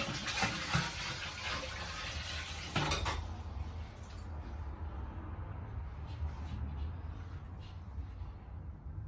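Tap water pouring into a tank during a weight test of a fitting, a continuous splashing rush that starts loud with some clatter, then settles into a softer steady trickle.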